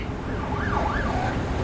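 An ambulance siren in a video game wails in rising and falling sweeps over a low rumbling engine background, moderately loud and close.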